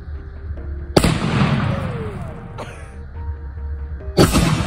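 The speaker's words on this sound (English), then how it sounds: "Lady's doing a target shot" A 12 gauge shotgun fires a single loud, close target shot that rings out and decays. A second sharp blast follows a few seconds later, with no talking.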